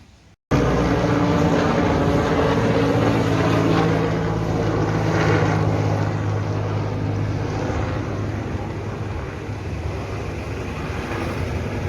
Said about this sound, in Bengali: একটা হেলিকপ্টার গেল, সেটা তোমাদের সঙ্গে শেয়ার করলাম